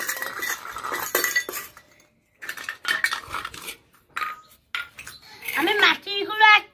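Clay, wooden and steel toy pots and pans clatter and clink as they are tipped out and set in place, with bursts of metallic rattling broken by short pauses.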